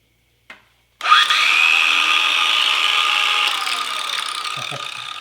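A cordless angle grinder spins up after a brief click, holding a steady, loud, high whine for several seconds before it begins to wind down.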